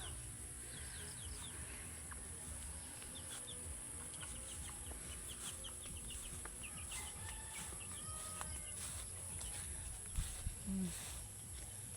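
Chickens roam a farm plot among dragon fruit plants, giving scattered soft clucks and calls over a steady outdoor hum, with a couple of sharper calls near the end.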